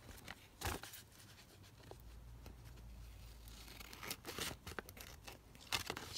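Scissors trim paper for double over-page pockets in a crafting workshop, giving a quiet, close run of irregular snips, crinkles and rustles.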